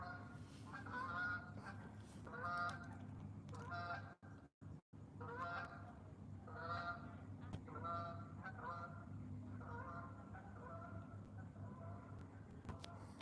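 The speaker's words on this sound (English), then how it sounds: "There's some Canadian geese." Canada geese honk repeatedly in a steady, overlapping chorus, fairly close, at a lake, with a low rumbling background and a brief dropout partway through.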